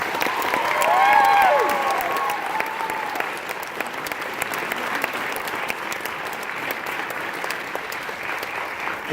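A theatre audience at a stage hypnosis show gives loud, continuous applause for volunteers, dense clapping with a few cheers and a whistle early on, sustained for about nine seconds.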